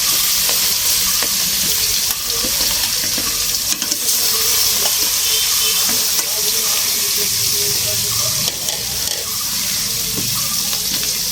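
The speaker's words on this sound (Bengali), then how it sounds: "মাছগুলো আমি সুন্দর করে ভেজে নিব, আর মাটির চুলায় দিচ্ছি" Fish fry in oil on a clay stove, a steady, loud, dense sizzle filling the whole span with faint clatter and soft background sounds mixed in.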